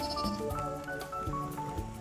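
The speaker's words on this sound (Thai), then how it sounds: "อันนี้เลี้ยงแพะกับแกะ แพะแกะสองอย่าง เลี้ยงพร้อมกันแบบนี้เลย" Sheep and goats raised together on a Thai farm bleat repeatedly at close range during feeding time on tree branches, several overlapping calls across a short stretch with no talk.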